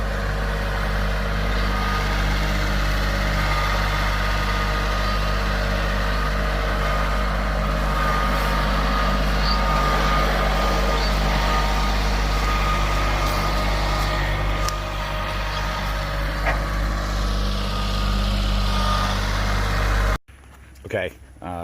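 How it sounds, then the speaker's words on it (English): A dump truck delivering a load of dirt to a residential lot rumbles with a deep, steady idling engine close by for a long stretch, with voices talking over it before the sound cuts off abruptly. "with that second dump truck load, Dave has already put a little at the front here"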